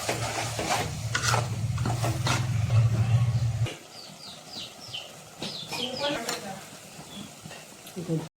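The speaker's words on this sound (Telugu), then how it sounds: "ఇప్పుడు రెండు స్పూన్ల జీలకర్ర మెంతుల పొడి వేసుకోవాలి ఇప్పుడు మొత్తం కలుపుకోవాలి కలిసే వరకు" Gongura chutney being stirred with cumin-fenugreek powder, a steady scraping, rubbing sound under a low sizzling hum for the first few seconds, then softer stirring with intermittent clinks while a person talks.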